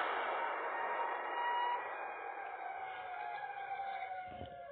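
Siren Head's wailing siren in the horror video game Siren Head Legacy, a loud sustained drone with steady tones that holds, then dips slightly in volume before a low thump near the end.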